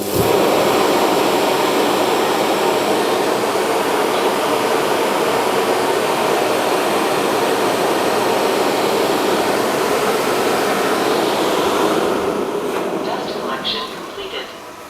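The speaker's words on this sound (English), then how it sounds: "that loud noise was the high suction taking the dust out from the small compartment on the machine into the main tank" The eufy RoboVac LR30 Hybrid+ station pulls dust from the robot vacuum's small compartment into its main tank with a loud, sustained roaring suction that fades out near the end.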